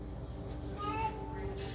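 A pet cat lets out a brief, faint whiny meow in the background, set against steady low room hum indoors.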